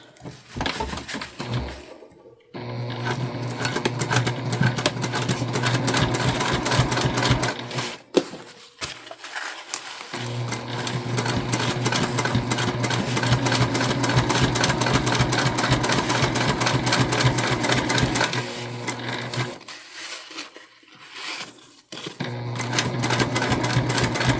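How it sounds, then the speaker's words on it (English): A Juki TL2 sewing machine topstitches a drawstring backpack, running in long, rapid, continuous bursts of close, loud stitching with two short pauses between runs. "And now we can top stitch."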